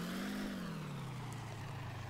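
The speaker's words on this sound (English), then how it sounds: "Don't know why my driver is revving the engine right now." Tank engine in the combat simulator game Steel Fury revving steadily, a loud continuous mid-pitched drone that sags slightly in pitch partway through, with no talk over it.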